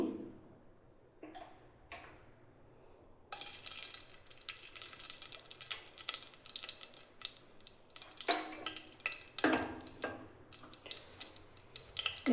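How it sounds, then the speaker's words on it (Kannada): Rice being rinsed and swished in water in a home kitchen before cooking palak rice, with close splashing, trickling and ticking sounds that turn dense and continuous after a quieter start. "ಮೊದಲಿಗೆ ಅಕ್ಕಿನ 1-2-3 ಸರಿ ಚೆನ್ನಾಗಿ ವಾಶ್ ಮಾಡ್ಕೊಂಬರೋಣ"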